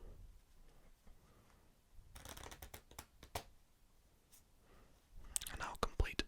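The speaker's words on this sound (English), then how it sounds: "I'll split them in roughly half, and we'll shuffle face down into face up" Red playing cards shuffled face down into face up, heard as close, crisp bursts of riffling card flutter between quiet pauses, with soft whispered speech in the gaps.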